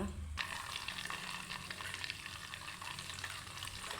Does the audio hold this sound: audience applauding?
no